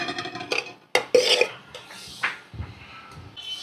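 Rice being served onto plates with a spoon at a home meal, heard as close clinks and scrapes of metal against dishes, with a few sharp knocks and short scraping strokes, no voices.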